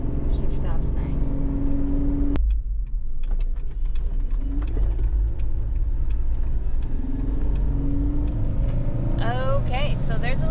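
A 1-ton axle swapped Jeep JK driving on pavement, a steady low road rumble and engine drone throughout, with someone talking over it.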